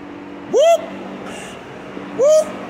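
A voice imitates a police siren whoop, two rising whooping calls spaced apart, loud and close with no other talk.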